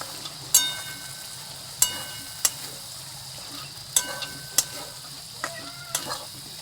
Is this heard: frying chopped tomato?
yes